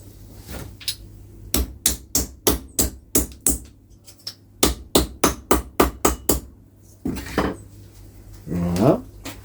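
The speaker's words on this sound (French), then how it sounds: "Je vais mettre un coup de marteau sur l'étau." A hammer repeatedly strikes a metal vise, a fast run of about fifteen sharp, ringing metallic blows in close succession, followed by a brief scrape and a couple of heavier knocks.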